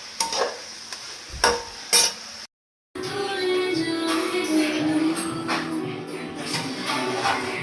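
Onion, tomato, cashew, garlic, and dried and green chillies lightly sautéing in a pan, with a few sharp stirring knocks, a brief gap, then a continuous close sizzle and scraping.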